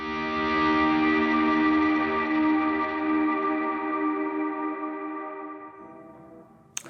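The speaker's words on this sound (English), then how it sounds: "We will do a swell sound" Electric guitar swelling up on the one chord, a sustained chord with effects that decays slowly and fades out over several seconds, closing with a brief click.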